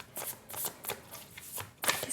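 Tarot cards being shuffled during a Hindi-language Virgo reading, a soft, quick run of papery riffling bursts repeated several times close by.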